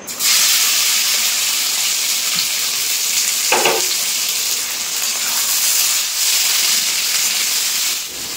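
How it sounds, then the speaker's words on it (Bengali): Peeled amla, Indian gooseberries, dropped into hot oil with asafoetida in a pickle preparation, giving a loud, steady close sizzle and hiss that carries on for several seconds, with a brief clatter partway through. "এখন আমলকিগুলো দিয়ে দেবো তেলের উপরে"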